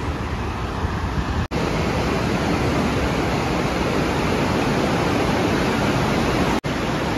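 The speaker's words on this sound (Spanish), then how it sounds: "oye muy fuerte el ruido del agua" Floodwater surges through a full arroyo in Nogales with a loud, steady, broadband roar that fills the whole stretch, broken only by two instant dropouts.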